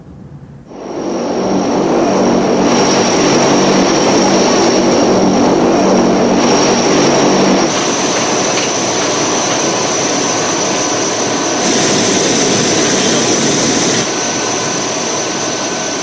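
American cargo airplanes roar overhead in a loud, sustained engine drone with a high whine layered on top, close and steady for the whole stretch with no voices.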